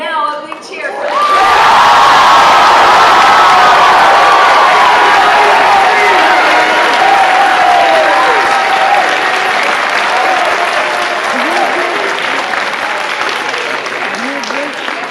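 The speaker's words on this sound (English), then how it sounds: "Now a big cheer for them" A large audience at a school closing convocation cheers and applauds, a sudden loud roar of clapping and shouting that swells within a second and holds strong for the rest of the stretch.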